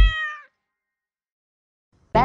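A cat lets out one clear, drawn-out meow up close, followed by silence and the sharp start of another sound at the very end.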